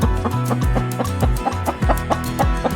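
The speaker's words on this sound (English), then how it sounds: "Chicken." A chicken clucks in a run of short, rhythmic calls, close and fairly loud, with no one talking.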